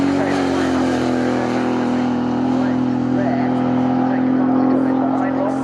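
Group 1 saloon race cars over 2.8 litres racing at Goodwood, several cars battling closely: loud, sustained engine roar with a steady droning pitch and passing variations, heard under continuous commentary.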